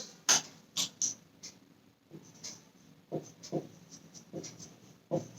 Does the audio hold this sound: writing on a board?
yes